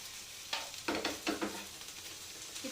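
Paneer roasting on a non-stick tawa, with a soft steady sizzle broken by a few scraping stirs and light clinks, close and fairly quiet, no talking.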